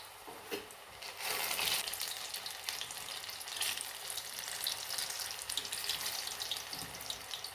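Chana koliwada, spiced chickpea fritters, frying in hot oil, giving a dense, continuous crackling sizzle that swells briefly and stays steady and close throughout, with no talking.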